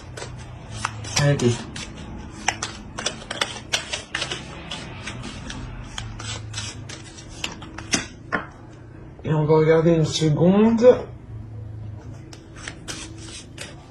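Tarot cards shuffled by hand at close range: scattered soft taps and rubs, then a dense riffling burst lasting a second or two, with a voice speaking in French throughout.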